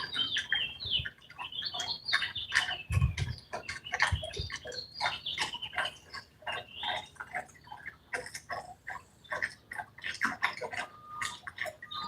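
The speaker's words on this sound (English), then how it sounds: "You hear that bird?" Outdoors on a morning fishing trip for striped bass, a bird chirps and sings continuously in quick, bright repeated phrases, close and clear, with faint water and movement sounds underneath.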